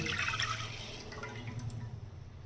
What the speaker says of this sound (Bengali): হাফ লিটার পরিমাণ যে দুধ আছে, দুধটাকে আমি দিয়ে দিচ্ছি।